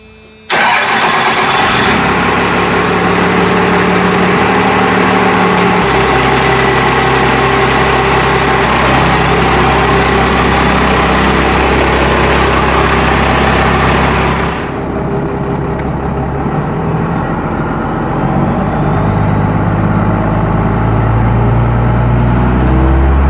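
A used truck's engine cranks, catches and settles into a loud, steady idle close by, with a shift in its tone partway through and a rising rev near the end.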